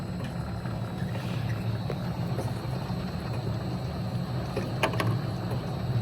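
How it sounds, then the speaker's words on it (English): A piston filling machine runs its conveyor wheel and belt, giving a steady, even mechanical drone and hum with a few faint clicks, close by and with no talking. "We run a conveyor wheel and the belt."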